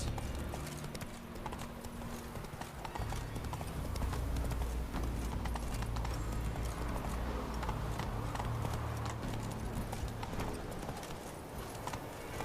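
Horse hooves clip-clop steadily as a horse is ridden at pace in The Witcher 3, a dense continuous rhythm of hoofbeats heard loud and close with no talk.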